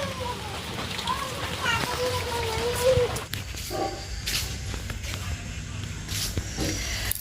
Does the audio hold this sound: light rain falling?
yes